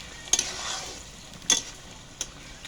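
Two eggs being stir-fried in a pan for a village-style curry, soft sizzling under a few sharp scraping clicks of a spatula against the pan, spaced about a second apart, close and quiet.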